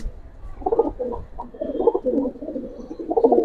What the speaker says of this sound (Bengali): হাই কোয়ালিটির কবুতর